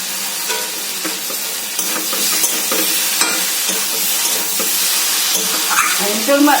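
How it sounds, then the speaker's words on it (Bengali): Fried jackfruit and potato are stirred in a hot pan, giving a loud, steady sizzle and hiss with scraping stir sounds throughout. "ভেজে রাখা আছে এঁচোড় আর আলু, এটাকেও আমি এর সাথেই দিয়ে নাম যতক্ষণ না একটু সুন্দর গন্ধ হচ্ছে ততক্ষণ একটু করতেই থাকছি"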